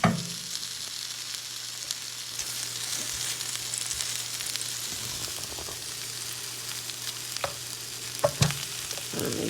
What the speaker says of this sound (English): I don't hear a good enough amount of sizzle.